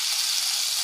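Mustard seeds spluttering in hot oil while a mushroom curry is being started: a steady, close, hissing sizzle with fine crackle and no voices.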